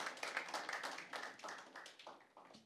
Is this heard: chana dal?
no